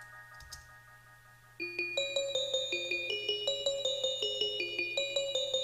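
Two layered synthesized bell lines play a steady rhythmic pattern together, bright tones ringing over each other at an even pulse.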